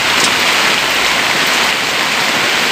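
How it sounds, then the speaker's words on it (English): Heavy rain pours down hard and steadily, a loud, dense, continuous hiss of drops on surfaces with no break and no voices. "So it's raining hard again"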